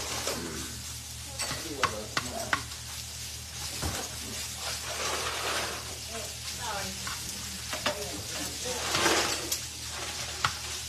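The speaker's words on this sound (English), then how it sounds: "We're browning sausage meat live." Sausage meat browning in a pan, sizzling steadily throughout with frequent stirring scrapes and a few sharp utensil clicks, close and moderately loud with no talk.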